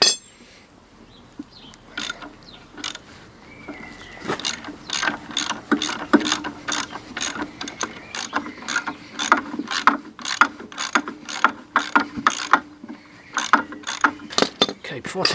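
A socket set ratchet clicks in quick bursts of close, sharp pawl ticks while working on a Land Rover Defender 300Tdi chassis, with the strokes speeding up as the bolt turns.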